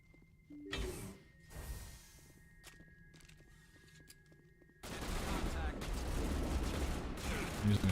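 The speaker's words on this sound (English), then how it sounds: "I'm using a shotgun" Shotgun blasts in the video game Mass Effect 1, a few sharp shots early then a dense loud stretch of combat noise, with a voice talking over parts of it.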